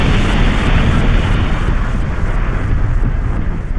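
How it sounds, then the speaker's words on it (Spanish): A rusty pick-up truck tumbles off a cliff and explodes, a loud, sustained rumbling roar that fills the whole stretch without letup and no voices over it. "la pick-up oxidada rodó por el precipicio, desencadenando una explosión que resonó en todo el lugar."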